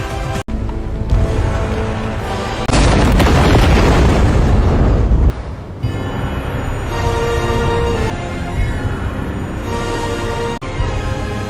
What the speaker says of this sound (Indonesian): tiba-tiba muncul ledakan yang sangat besar sekali